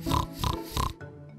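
A pig gives three rhythmic grunting oinks in quick succession, close by and moderately loud, then a softer snort as the sound fades.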